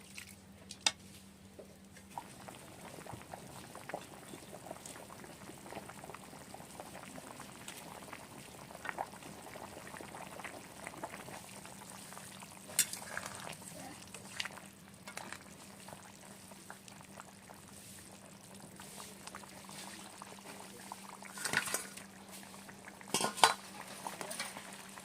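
Cauliflower and tilapia fish curry simmering in a pot, with a low steady bubbling under scattered clinks and scrapes of a spoon stirring against metal, close and moderately quiet, no talking.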